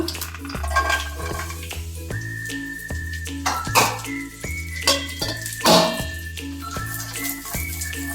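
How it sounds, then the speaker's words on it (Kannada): Halved raisins heated in a pan and stirred with a metal utensil for a dry-fruit karadantu sweet, giving repeated clinks and scrapes against the pan in an uneven rhythm, close and clear over a steady tonal hum. "ಇವಾಗ ದ್ರಾಕ್ಷಿ ಬಿಸಿ ಮಾಡ್ಕೊಳ್ಳೋಣ"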